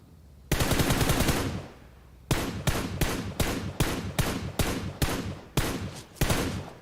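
Gunfire in a PUBG Mobile tournament match: a loud sustained automatic burst, a pause, then a string of sharp, evenly spaced single shots, close and dominant with no talk.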